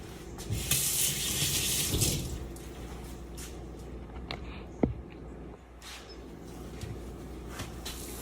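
Water splashes into a hot pan and sizzles while steak au poivre with a creamy mushroom sauce is being cooked, a soft hissing and bubbling with a brief burst early on and scattered clicks, fairly quiet and close.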